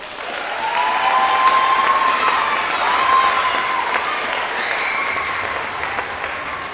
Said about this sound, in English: So if you give a round of applause for Siri